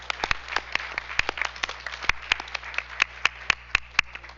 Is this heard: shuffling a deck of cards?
no